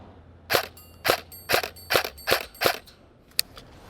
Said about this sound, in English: this gun has no problem hitting a 6-inch steel target